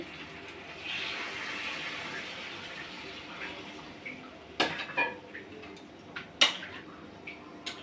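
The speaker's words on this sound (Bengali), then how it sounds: "এখন গরম জলটা দিতে আসি।" Hot water poured into a cooking pot makes a soft rushing hiss for a few seconds, followed by several sharp metallic clanks of the pot and utensils, fairly close but quiet overall.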